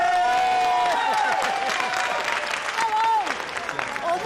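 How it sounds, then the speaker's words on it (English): An audience applauds with scattered cheers and shouted voices over the clapping, a lively crowd sound holding steady for several seconds. "Everyone could join me in a round of applause"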